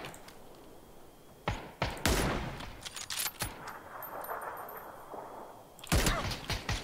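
Gunfire in the video game PUBG, several sharp, separate shots cracking out at uneven intervals, with a louder cluster in the middle and a final shot near the end over low ambient noise.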